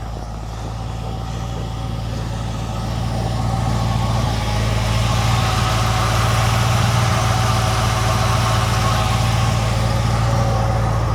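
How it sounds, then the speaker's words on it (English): A car engine idles steadily after a gas leak repair, a constant low rumble with a deep hum that grows slightly louder after a few seconds and continues evenly to the end, with no talking. "sounds good idling"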